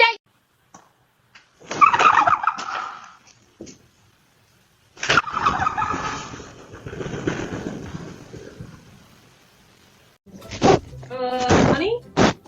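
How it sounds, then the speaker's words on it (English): An ostrich at a house's front door, picked up by a doorbell camera: a few loud, gobbling, honking bird calls come in bursts separated by quiet gaps, along with dull thumps and knocks close to the door. "There's a giant bird at the door. That's an ostrich."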